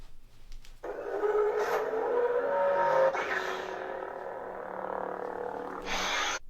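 A NovaSaber Darth Vader lightsaber's cross ignition effect: a crackling ignition burst settling into a wavering, buzzing hum with pitch shifts and a brief swoosh, clear and close with no talk.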